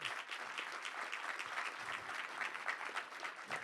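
A conference audience at a roundtable on Latin American labor markets gives a warm round of applause, a dense, steady clapping that holds evenly throughout without voices.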